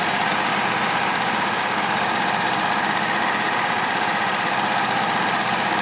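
A generator engine runs steadily at about 1910 rpm, rattling and vibrating hard in a constant, loud drone with no pauses.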